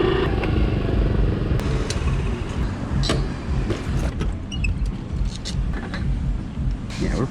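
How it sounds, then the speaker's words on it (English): A Honda Trail CT70 small motorcycle engine runs steadily and close, a continuous low buzzing rumble throughout with a few brief clicks and knocks on top. "back at it again on a Trail 70 this time. She's running like a champ."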